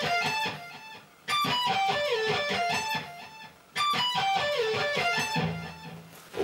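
Guitar plays a minor arpeggio lick from a metal song, with clear repeating note runs, loud and close, stopping briefly and then restarting the same phrase.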